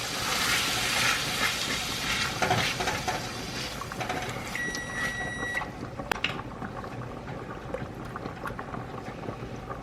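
Spaghetti meat sauce simmering on low heat in a pan gives a steady, close hiss and soft bubbling that runs throughout, with a few faint clinks partway through and no talking.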